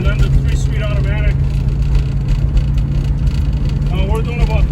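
A restored 1966 Ford Fairlane with a 289 engine and three-speed automatic cruises at highway speed, its steady low engine and road drone filling the cabin while someone talks over it.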